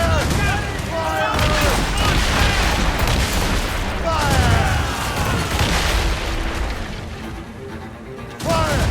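Ship cannons booming in a naval battle in Assassin's Creed Rogue, heavy blasts and crashes layered over constant sea and battle noise, with shouted voices mixed in throughout.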